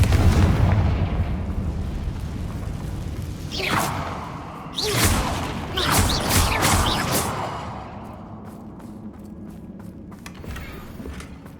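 The Confringo blasting spell in the Hogwarts Legacy video game fires in a burst of fiery whooshes and explosive booms, several sharp blasts in quick succession over a rumbling background that then fades.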